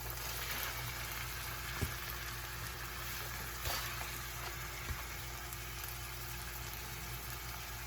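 Peppers fry in a pan for homemade chunky salsa, giving a continuous, even sizzle with a few soft clicks and taps of stirring and no talking.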